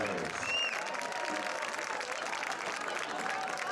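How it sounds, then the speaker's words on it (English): A crowd at a high school football game applauds the seniors, a sustained wash of clapping and cheering from the stands, with a few faint voices mixed in. "let's have a big round of applause for all of our seniors tonight"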